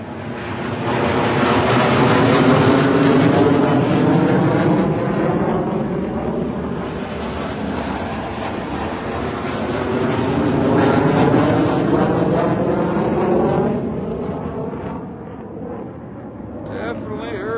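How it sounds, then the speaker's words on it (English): Loud, continuous jet engine roar of F-16 fighter jets overhead at a Memorial Day ceremony, swelling and easing across the whole stretch with a broad rumbling wash. "There's the F-16s now, but I don't see them."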